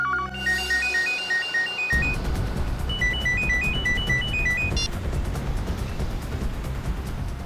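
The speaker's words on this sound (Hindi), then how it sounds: "ये फोन की घंटी बिल्कुल सही टाइम पर बजी" A phone ringtone plays a repeating chirpy electronic melody in short bursts over steady road and engine rumble inside a moving car, then stops after a few seconds.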